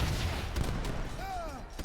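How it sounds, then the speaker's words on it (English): Grenades explode on insurgent units in an Age of Empires 3 match, a cluster of dull booms and crackling gunfire-like blasts, with game commentary running over them. "Here comes the insurgents getting grenaded."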